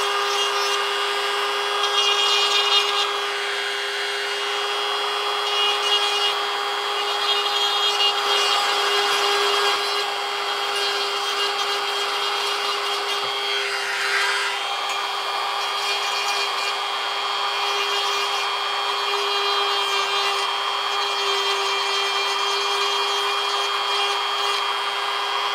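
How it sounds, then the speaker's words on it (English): A rotary grinding stone smoothing the seam of a resin cast African wildcat skull gives a continuous, near and loud whirring grind with a steady tonal whine that holds without pause, and no one speaks. "I have a smaller grinding stone as well"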